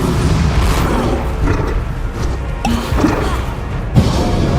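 Bombarda blasting spell impacts in Hogwarts Legacy, heard as dull booming thuds and crashes over a dense, continuous game soundscape, with a sharper hit near the end.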